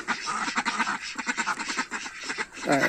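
Indian Runner ducks quacking in a rapid string of harsh, nasal calls close by, overlapping one another in uneven bursts.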